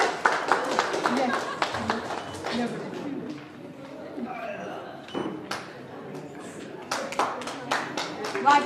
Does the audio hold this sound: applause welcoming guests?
yes